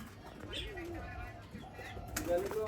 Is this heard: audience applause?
no